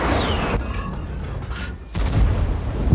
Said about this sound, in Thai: ยิงด้วยปืนใหญ่ร้อยห้ายิงกราดเลย